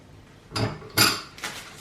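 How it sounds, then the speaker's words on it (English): A knife scoring diagonal marks into a pastry top: three short, soft scraping strokes about half a second apart, close and quiet, with no talk. "I'm just going to score about 5 diagonal marks into the top of the pastry"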